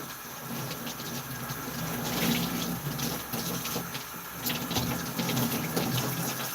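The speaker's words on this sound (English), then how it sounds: "Water is coming clean out of it." Water runs steadily from a tap while a sock is washed by hand, a continuous splashing gush with slight surges, fairly close and without talk.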